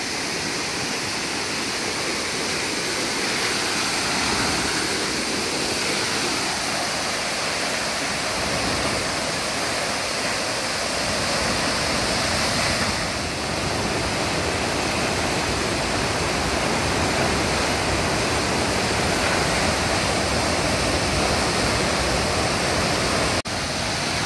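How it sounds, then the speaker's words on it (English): Virgin Falls in Tennessee, at high water, roars in a constant, loud rush of water dropping 110 feet, steady and unbroken throughout. "dropping 110 feet down this waterfall"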